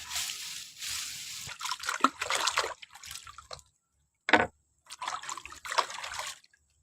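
Running water splashes while lemongrass stalks are washed for curry paste, coming in soft irregular bursts of trickling and splashing with brief pauses, close by and fairly quiet.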